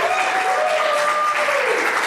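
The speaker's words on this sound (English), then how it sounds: "I want to say thank you to the people that clapped." A live audience at a comedy podcast show claps in a dense, steady round of applause that fills the whole moment, loud and close.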